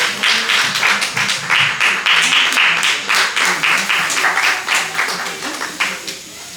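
A live audience at a Nomads show in Colombier applauds for a performer being introduced, a dense, loud wash of clapping that holds steady for several seconds before thinning out at the end.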